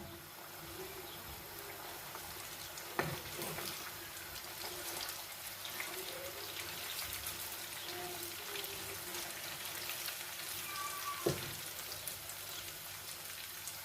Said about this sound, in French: Je le laisse frire